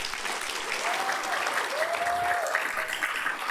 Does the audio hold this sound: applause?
yes